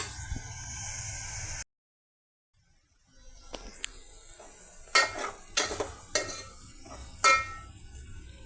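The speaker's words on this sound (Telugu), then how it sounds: "ఇంకా మీడియం ఫ్లేమ్ మీద 2 నిమిషాల పాటు ఇవన్నీ ఏ విధంగా ఫ్రై అవనిద్దామండి" Tomato pieces frying in a pan over a medium flame: a brief hiss cuts to silence, then a soft sizzle returns under several sharp clanks and scrapes of a spoon against the pan.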